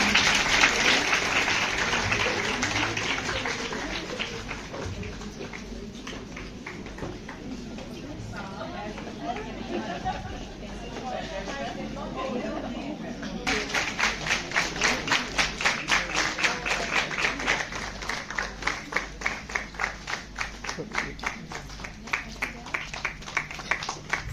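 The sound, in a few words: audience clapping at teachers' retirement ceremony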